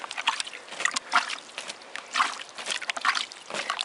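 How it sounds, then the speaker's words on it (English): Water poured a little at a time onto paper in a homemade worm bath, giving soft intermittent trickles and splashes close by with no talk. "Now I'm just going to add a little bit of water."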